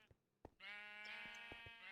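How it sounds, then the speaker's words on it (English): A sheep in the LyfCraft video game gives one long, clear, wavering bleat, preceded by a few soft clicks, close and prominent with nothing else over it. "We have sheep."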